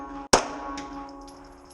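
A single sharp CZ 75 SP-01 Shadow pistol shot fired double action at a shooting range, one loud close crack with a brief ringing tail, followed by faint metallic clinks.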